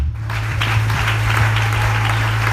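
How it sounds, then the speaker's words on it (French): A church congregation applauds, a dense, steady wash of clapping that fills the whole stretch at close range over a constant low hum. "Acclamez pour vous-même."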